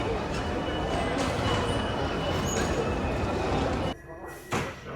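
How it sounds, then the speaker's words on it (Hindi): A Paris metro train rumbles loudly nearby with steady rail noise, then quiets as doors clatter; voices murmur faintly in the background. "Finally boarded the metro. कुछ इस तरह की इनकी ट्रेन होती है।"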